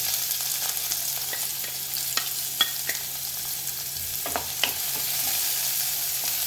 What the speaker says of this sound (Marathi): जिरं टाकल्यानंतर आपल्याला कांदा टाकायचा आहे